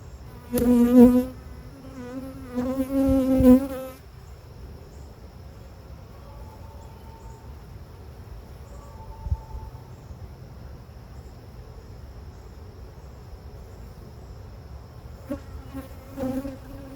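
Honeybees buzz at an open hive during a mid-June inspection, with two loud close passes of a bee near the start, then a faint steady hum and occasional brief buzzes close by, with no talking.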